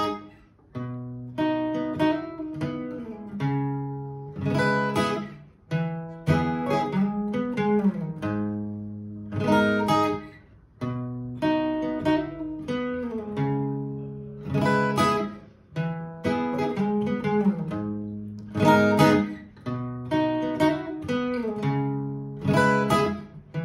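An electric or acoustic guitar plays a riff slowly, with repeated plucked chord phrases and short pauses between them, close and clear with no talking.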